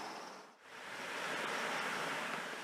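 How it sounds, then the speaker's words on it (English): A continuous rushing wash of running water from a floodwater interceptor off Cutlers Mill Brook in Bristol, heard behind a door, broad and steady, with a brief dip near the start before swelling back. "behind this door you can hear the sound of running water"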